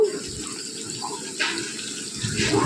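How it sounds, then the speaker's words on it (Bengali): Water poured into a pan of frying spice masala, a steady trickling pour with a louder splash and sizzle near the end. "তো এবার আমি একটু জল দিয়ে দেবো।"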